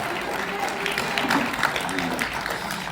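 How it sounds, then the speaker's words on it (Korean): Audience applause from a seated crowd, a continuous dense clapping texture at moderate level with faint voices mixed in. "박수."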